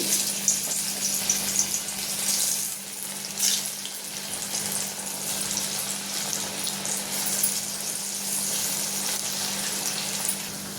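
Sliced alu vadi, rolled colocasia leaf pieces, frying in hot oil, a steady dense sizzle and crackle that holds evenly throughout with a low constant hum underneath, close and fairly loud, no voices.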